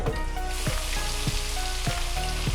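Potato wedges frying in hot oil in a basket, a loud, steady sizzle with a dense crackle running through it.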